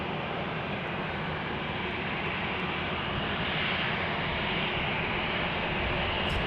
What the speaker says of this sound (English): here's an A319 coming into the gate, and a 737 as well.